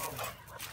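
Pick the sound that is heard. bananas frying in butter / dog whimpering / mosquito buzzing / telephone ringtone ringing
dog whimpering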